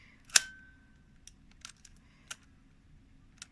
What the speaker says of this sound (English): checked the flash, not the flash, the shutter, I was surprised that it did work.